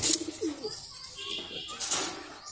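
Pigeons cooing, a pair of Teddy and Golden-cross birds being shown for sale, with soft low coos and rustling close by while someone talks over them.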